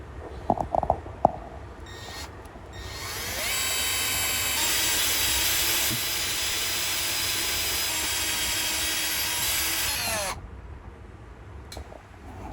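A few clicks, then a power drill whirs steadily at high speed for several seconds drilling into a broken bolt before stopping abruptly, followed by quiet and a brief click.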